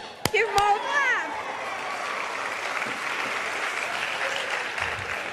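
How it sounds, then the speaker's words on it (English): An audience at a bookshop event gives a round of applause, opening with a couple of sharp claps and some excited vocal whoops, then settling into steady, moderately loud clapping from many people. "let's give them all a clap"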